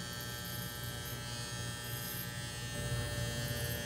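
A Saber 2.0 electric hair clipper cuts hair in a continuous close buzzing drone with a steady hum, loud and unbroken throughout, with no talking.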